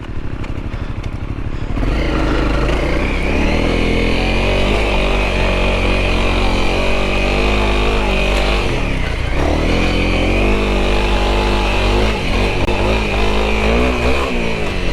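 Adventure motorcycle engine pulling up a dirt hill climb in first gear on a forest trail, loud and close, with a steady droning growl, shifting pitch and occasional rattling from the terrain.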